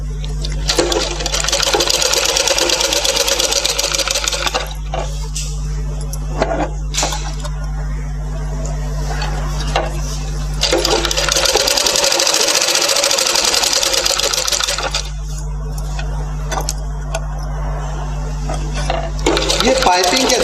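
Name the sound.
sewing machine stitching blouse piping on cloth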